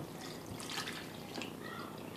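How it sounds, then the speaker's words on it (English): Lemonade Moscato spritzer poured over the top of a mixed drink, a soft continuous splashing trickle of liquid with faint fizzing, close and moderately quiet, no talking. "I'm going to pour this right on top of it."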